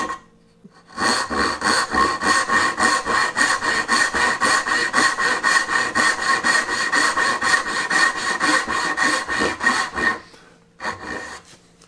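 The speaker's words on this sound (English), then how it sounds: "Once I start sawing," Hand saw cutting wooden dovetails, steady rhythmic push-and-pull strokes rasping close and loud for about nine seconds, then a short pause and a few final strokes, with no talking.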